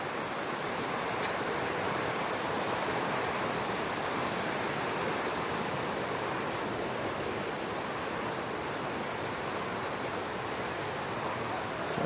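Steady, unbroken rush of a rain-swollen river flowing close by at a forested riverbank, a dense broadband roar holding constant with no voices.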